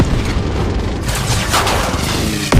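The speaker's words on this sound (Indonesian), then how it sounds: "Aksi tembak-tembakan di udara pun tak dapat terhindarkan" Aerial gunfire between fighter jets attacking Air Force One in an action film, a dense rumbling barrage of booms and rapid shots, loud and continuous with a sharp hit near the end.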